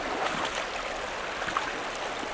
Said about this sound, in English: Sitting in the river.